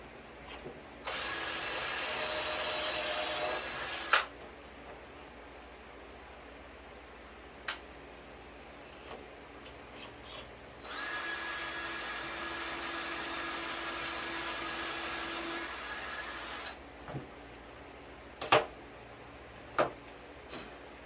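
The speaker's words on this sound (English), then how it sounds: "All drilled out, all the pocket holes are in." Power drill boring pocket holes in wood for a DIY workbench, two long steady whining runs of about three and six seconds, separated and followed by sharp knocks and clatter from clamping and handling the boards.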